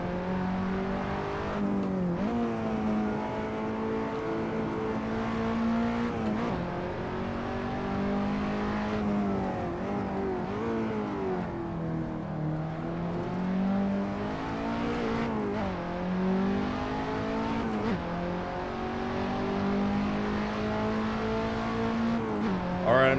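A KTM X-Bow race car engine in the Assetto Corsa racing game at Laguna Seca, droning loud and steady with pitch rising and falling through gear changes and corners for the whole stretch.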